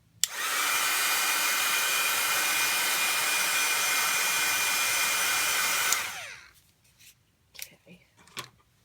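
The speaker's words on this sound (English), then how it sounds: "heating tool real quick on it just to dry it off a little bit" Heat tool blows steadily at close range to dry ink on a stamped card, a loud continuous whooshing roar for about six seconds that cuts off abruptly, followed by faint handling clicks.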